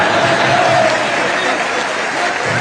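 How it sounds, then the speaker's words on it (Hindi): Dense audience applause from a large crowd at an event in Nigeria, a steady wash of clapping that holds level for the whole stretch, with some voices mixed in. "आपकी ताली से पता चल गया मुझे।"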